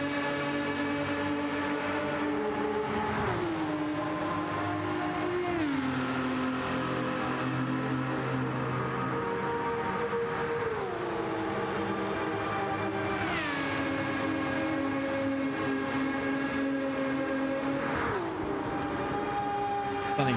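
GT3 race car engines howl through gear changes around the Nürburgring Nordschleife in a sim racing game, a loud sustained whine rising and dropping repeatedly as the car shifts, with no voices.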